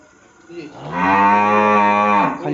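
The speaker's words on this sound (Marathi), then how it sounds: "प्युअर टॉप ओरिजिनल एबीएस जातीची गाय" An ABS breed cow gives one long, loud moo that rises and holds steady for over a second before trailing off, close by and clear.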